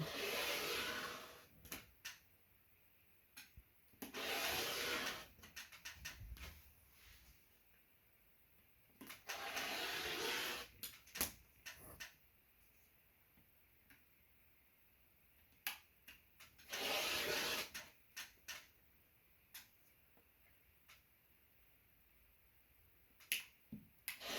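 Quilting fabric is cut into 1.5-inch strips, heard as repeated bursts of quiet, close swishing from a rotary cutter. Each stroke lasts a second or two, with short crisp clicks and taps between them as the ruler and fabric are moved.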